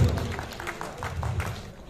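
An audience claps at an outdoor Holi celebration in a civic center, steady scattered applause that swells and fades over under two seconds, with a voice faintly underneath.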